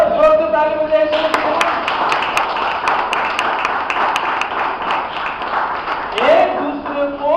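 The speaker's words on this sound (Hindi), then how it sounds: "जोर से ताली बजाइए।" Congregation at a Sunday church service clapping loudly together, a steady dense patter of many hands with sharper individual claps standing out, continuing under a voice that talks over it near the end.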